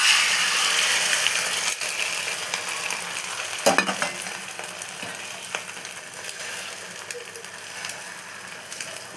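Beaten egg omelette frying in hot oil, a steady loud sizzle throughout with occasional clicks and a brief scrape of a utensil midway.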